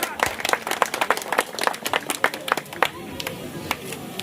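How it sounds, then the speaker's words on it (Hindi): Loud, enthusiastic clapping from a crowd at an outdoor village stage event for an anti-drug campaign, in dense irregular bursts for about four seconds, with a voice over the sound system in the background. "जोरदार तालियों के साथ।"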